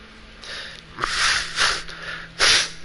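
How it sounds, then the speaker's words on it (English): A person blows their nose in several short, forceful bursts close to the microphone, with brief pauses between each honk. "I was blowing my nose there."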